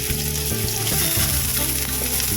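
Garlic and onion sauté in hot oil for Pangasinan-style pigar pigar, a steady close sizzle and crackle with occasional stirring and no voices.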